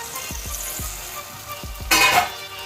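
Tomatoes and onions cooking under a lid in a pan for a cheese paneer ghotala, giving a steady soft sizzle with a few low thumps and a brief louder burst of frying near the end.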